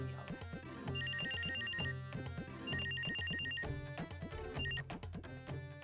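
A mobile phone rings with a repeating electronic ringtone melody, loud and close, cycling through its tune several times without any talking over it.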